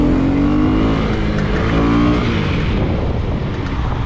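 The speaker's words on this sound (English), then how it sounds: "So this is a new LC4C 250cc engine" A Husqvarna Vitpilen 250 street motorcycle with a 250cc single-cylinder engine revs loudly up close, pitch climbing in a rising whine before easing back into a steady, rougher drone.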